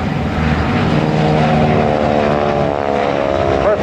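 A World War II-era propeller basic trainer plane makes a slow pass at the Thunder Over Michigan airshow, its engine a steady loud drone that holds throughout with no voices over it.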